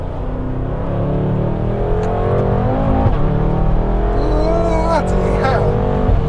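A BMW M6 Gran Coupe's 4.4-litre V8 accelerates hard along a straight road. The close, loud engine note climbs in pitch through the revs, drops back, and climbs again.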